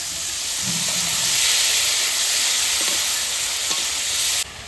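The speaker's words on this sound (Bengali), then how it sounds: "চিংড়ি মাছটা আমি বেশি কড়া করে ভাজবো না" Shrimp sizzle in a pan with a steady, close hiss of frying oil throughout, cut short near the end, with faint clinks of stirring.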